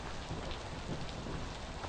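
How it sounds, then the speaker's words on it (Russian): Steady heavy rain hisses with a low thunder rumble underneath during a storm in the video game Beasts of Bermuda, a dense, continuous wash with no voices. "Ох, как все громыхает."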